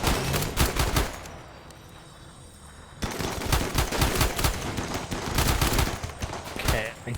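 Gunfire and rocket blasts from the RimWorld game crackle in dense rapid bursts. The bursts drop away for a couple of seconds, then return loud and sustained.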